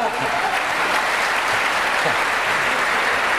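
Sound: TV studio audience applause

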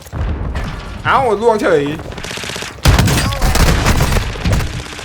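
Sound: grenade explosion and gunfire in a video game

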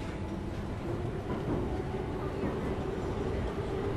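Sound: train ride in the video game Soma

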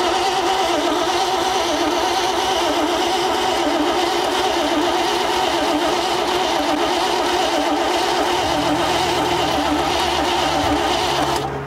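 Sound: 1957 Chevy Viking truck engine cranking and trying to start

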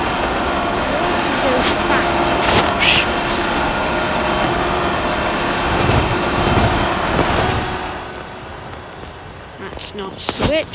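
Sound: train running on rails in the video game Trainz Driver 2

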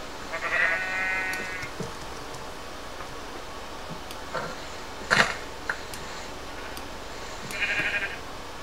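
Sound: sheep bleating in a video game

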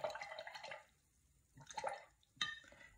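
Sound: rinsing a paint brush in water

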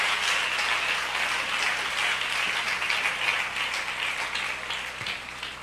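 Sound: audience applause

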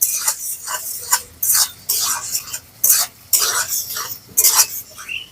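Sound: chopped tomato with salt frying in a pan

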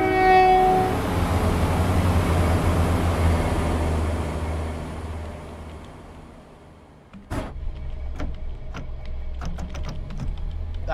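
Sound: Class 171 train passing by, from video game Train Sim World 4

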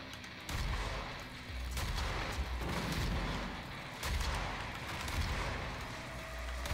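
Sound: rocket launcher firing in video game Doom (2016)

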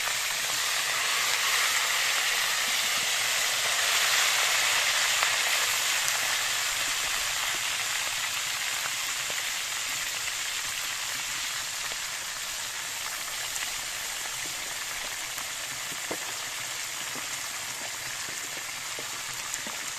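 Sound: frying fish in a pan

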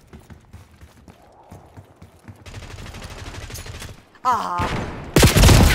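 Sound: shotgun fire in the video game Call of Duty Warzone

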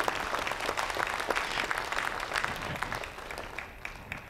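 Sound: congregation clapping hands

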